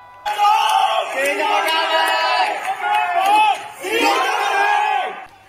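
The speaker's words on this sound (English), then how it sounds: "The crowd outside various election tallying centres in Hong Kong were ecstatic. The pro-democracy camp in Hong Kong had won 17 out of 18 district councils. Slogans were heard everywhere." Ecstatic street crowd in Hong Kong celebrating the pro-democracy camp's district council election win, loud massed voices chanting and cheering in rising swells, close and continuous with a short dip before a final surge.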